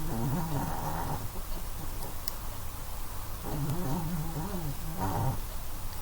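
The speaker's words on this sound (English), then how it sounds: "That's my puppy snoring." A puppy snores softly in two slow, drawn-out breaths, each a wavering low rasp with a nasal buzz, separated by a quiet pause; close and gentle, no voices.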